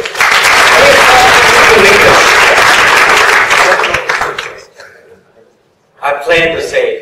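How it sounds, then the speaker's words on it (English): Audience applause at a think tank's tenth anniversary evening event, loud and sustained for about four seconds, fading out, then a fresh burst of clapping and crowd noise returning near the end. "Please, round of applause, Lewis"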